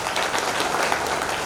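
An audience applauds at a DMK party general members' meeting in Pudukkottai, with steady, dense clapping from many hands filling the room and holding even throughout.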